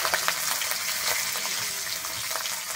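Slit green chillies and black cumin frying in hot oil, a loud, dense, continuous crackling sizzle throughout, close up and without talk.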